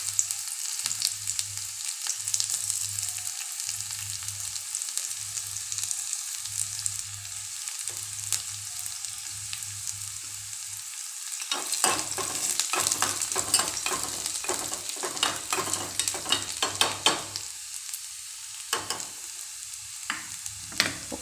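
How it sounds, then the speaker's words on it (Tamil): Chopped small onions hit hot oil for coconut chutney, a steady close sizzle with a low rhythmic pulse in the first half, then crackling bursts and stirring scrapes as the pan is worked. "நல்லா பொரிஞ்ச உடனே நறுக்கி வச்சுருக்க சின்ன வெங்காயத்தை சேர்த்துக்கலாம்."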